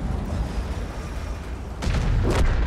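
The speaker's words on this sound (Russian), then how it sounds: "Даем выстрел" A low rumbling mechanical hum, then a sharp booming tank cannon shot followed by a second burst, a heavy gun firing in a video game.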